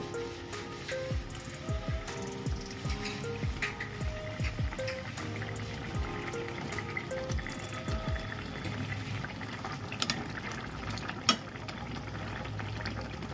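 Tilapia fish pieces simmering in a bubbling gravy with paneer, producing soft, irregular popping bubbles and gentle liquid gurgles at a fairly quiet level, with an occasional sharper pop.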